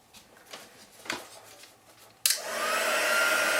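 After a few soft handling taps, a heat embossing tool switches on abruptly and blows a steady, loud whooshing roar over embossing powder until the end.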